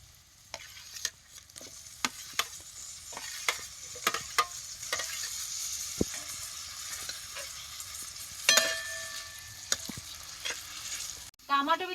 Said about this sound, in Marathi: टमाटर बी तेलात चांगला भाजून घ्यायचा